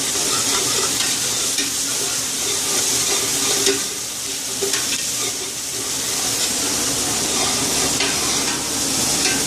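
Ginger garlic paste frying in a pan and stirred continuously, a dense, loud sizzle with steady scraping from the spoon throughout, no talking.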